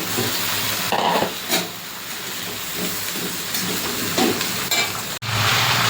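Pumpkin pieces sizzle and hiss steadily in a hot pan of shrimp and Malabar spinach, with brief stirring scrapes and clatters over the continuous frying noise.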